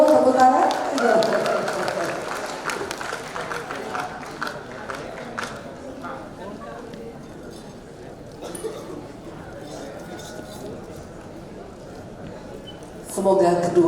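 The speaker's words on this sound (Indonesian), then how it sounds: "Ayo semua tepuk tangan." Guests at an akad nikah wedding ceremony clap in a short burst at the start that fades into scattered claps and murmuring chatter, with a voice speaking over the room.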